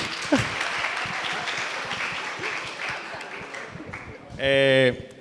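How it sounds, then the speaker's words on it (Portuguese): A room of people gives a round of applause for the night's lucky prize winner at a church gathering, brisk clapping through most of the clip, ending with a brief tonal sound. "Uma salva de palmas para o sortudo da noite."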